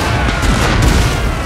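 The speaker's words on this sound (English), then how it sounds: "they stop right in front of the light cannons as I'm ordering them to fire" Light cannons fire in a Total War battle set in the Thirty Years' War, a dense, continuous roar of booming artillery and crackling gunfire with no clear gaps.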